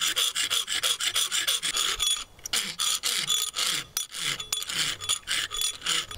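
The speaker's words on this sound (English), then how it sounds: "I'm going to go ahead and use a file to finish this up." A metal file rasps across the steel of a small handmade mini cleaver knife in quick, regular back-and-forth strokes, close and loud, with a short pause midway.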